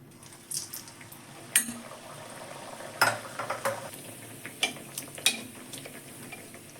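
Eggplant slices go into hot oil and fry with a soft, low crackle, marked by scattered louder spits and pops from the pan.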